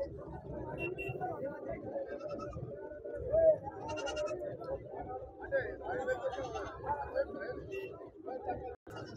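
Goats and sheep bleat intermittently at the busy weekly Siddipet livestock market, half-buried under steady crowd chatter and people talking nearby.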